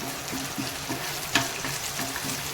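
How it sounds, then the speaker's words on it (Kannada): Curry leaves and broken Byadgi chili fry in hot oil for a seasoning, giving a steady, close sizzle with a faint stirring clink partway through. "ಈಗ ಇದನ್ನು ಸ್ವಲ್ಪ ಫ್ರೈ ಮಾಡ್ಕೊಳ್ಳೋಣ"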